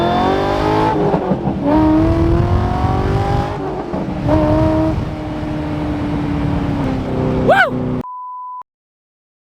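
Loud 2007 C6 Corvette V8 with straight-pipe exhaust revving up and down in waves, a deep rumbling exhaust that climbs to a high whine before cutting off abruptly.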